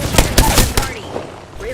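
Rapid bursts of video game gunfire crack loudly up close in a battle royale match, a few quick shots followed by a fading echo and faint electronic effects.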